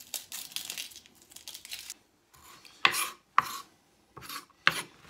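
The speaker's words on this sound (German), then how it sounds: "ich hasse das Zwiebelschneiden" An onion being cut with a knife while making cucumber relish: a run of soft scraping strokes, then several sharp separate cuts against the board, close and fairly loud, with no talking.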